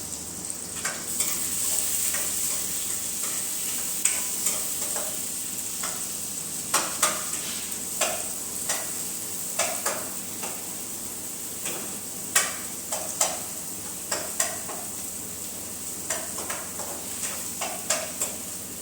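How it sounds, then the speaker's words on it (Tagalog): Beans cooking in a pan, stirred with a utensil that scrapes and clinks against the metal in irregular strokes over a steady soft sizzle, close and fairly quiet throughout. "Beans lang po ang niluluto ko."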